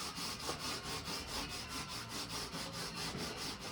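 A wooden frame is sanded by hand to strip off plaster, giving a steady, rhythmic scraping rub of back-and-forth strokes, close and continuous with no voices.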